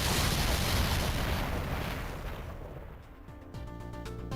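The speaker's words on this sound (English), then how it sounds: "I think I heard an explosion somewhere." Explosion in the video game Spirit Ruse: Enigma InSpectre, a broad rumbling blast that fills the first seconds and slowly fades, followed by a faint tonal hum.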